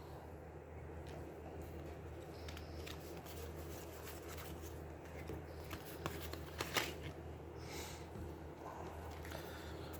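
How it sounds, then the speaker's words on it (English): Playing cards being shuffled during a solo tabletop game of Aeons End War Eternal, a soft, quiet riffling and scraping that runs for several seconds, with a few sharper taps near the middle and no talking. "this is the shuffle that matters"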